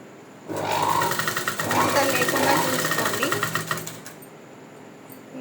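Sewing machine stitching boutique-style piping, a fast steady mechanical whirr running loud and close for about three and a half seconds before stopping.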